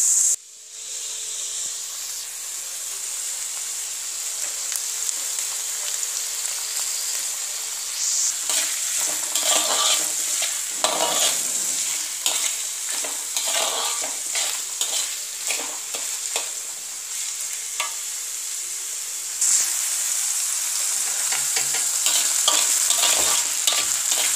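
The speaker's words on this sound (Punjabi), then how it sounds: "ਪਿਆਜ਼ ਨੂੰ ਜਿਹੜਾ ਆ ਹਲਕਾ ਬਰਾਊਨ ਕਰ ਲੈਣਾ ਆ" Onions sizzle steadily in hot oil in a pan, with intermittent scraping and clinking from a spoon stirring them, close and continuous with no talk.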